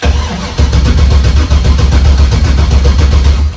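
An LS-swapped Squareback engine with open headers cranks loudly and close by, a steady rapid chugging of the starter turning the motor over without talk.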